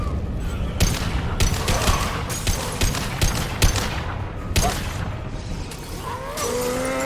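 Rifle fire in the Mass Effect 2 Legendary Edition shooter, with bursts of rapid shots over a busy combat din of impacts and crashes, loud and close, with a brief electronic whine near the end.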